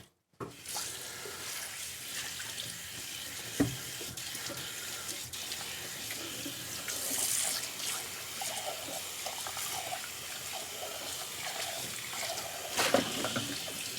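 Steady running tap water pours over a dish being rinsed in a home kitchen while making hachis parmentier, a continuous close splashing rush with faint clinks and no talking.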